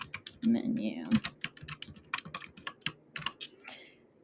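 Close, crisp typing on a computer keyboard, with quick irregular clicks spread across the clip and a short stretch of speech near the start.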